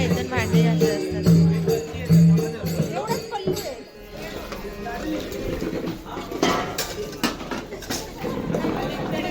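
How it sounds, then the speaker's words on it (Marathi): Women scrub and rinse dishes under a tank-fed tap, with metal pots and utensils clattering in scattered knocks amid running water and nearby chatter. "आता मी तुम्हाला ते बायका भांडी घासतात ना ते तुम्हाला दाखवते"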